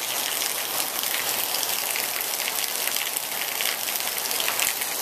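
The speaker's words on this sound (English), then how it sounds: "Now it's raining pretty hard." Heavy rain pouring down steadily, a dense, loud hiss of drops striking surfaces that holds at a constant level without pause and with no voices.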